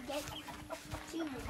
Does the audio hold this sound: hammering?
no